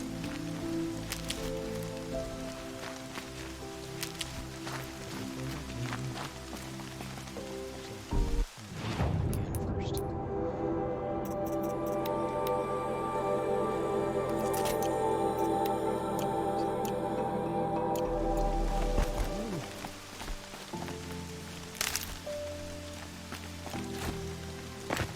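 Steady rain patters across surfaces in a constant wash, joined by a musical score with sustained tones that swells in the middle section before fading back.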